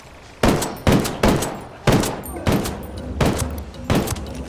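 Turret fire in Ghost Recon Wildlands: a string of seven heavy, close gunshots at irregular intervals, each sharp crack trailing off into echo over a low background rumble.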